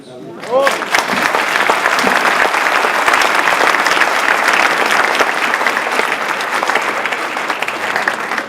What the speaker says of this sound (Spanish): Hay que darle una aplauso.